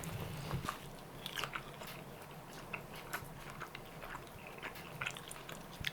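Close, soft crunching bites and chewing of a slightly burnt grilled Finnish reindeer sausage, irregular and steady over a faint background hiss with no talking.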